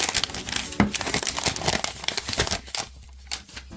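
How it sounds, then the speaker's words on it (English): Plastic protective film crinkles and peels off a Motorola moto g Power 2022 phone during unboxing, in a close, irregular run of crackles that thins out near the end. "Pull this plastic off so you guys can hear it."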